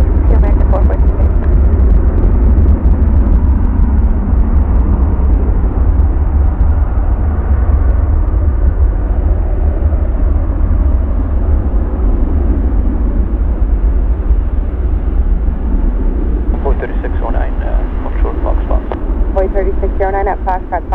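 Airliner departing O'Hare in Chicago, a loud continuous low engine roar held throughout, with air traffic control radio voices talking over it.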